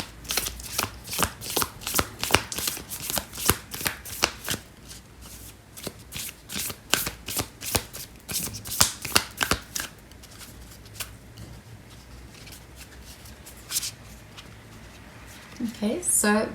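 Oracle cards being shuffled by hand in rapid riffling bursts of crisp papery flicks, fairly close, continuing for most of the stretch with a pause and a brief final flurry.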